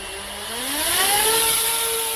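KY-Z2 GPS bicopter drone motors arming and spinning up, a loud whining buzz whose tones rise steadily in pitch over a couple of seconds, close and continuous with no talk.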